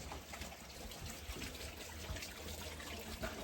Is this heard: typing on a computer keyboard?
no